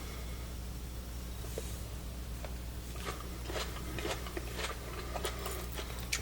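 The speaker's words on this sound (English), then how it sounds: "your onions, the onions, I know you hear a crunch, but it's still soft" Bites and chewing on air-fried corned beef with crunchy onions give a series of close, crisp crunches that grow more frequent toward the end, over a low steady hum.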